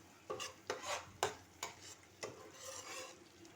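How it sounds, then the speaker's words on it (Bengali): A spoon rasps through ground coriander, turmeric and chili powder in a pan, in about five distinct scraping strokes followed by a softer, drawn-out scrape, faint and close with no voices. "মশলাটি ভালো করে নাড়াচাড়া করে নিতে হবে।"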